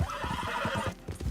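A horse in Red Dead Redemption 2 gives a loud, close whinny with a shaky, pulsing neigh that rolls through most of a second before trailing off.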